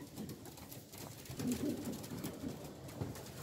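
Soft, low pigeon coos repeat several times at close range inside a pigeon loft with young birds in nests, over a steady background hum, with no voices.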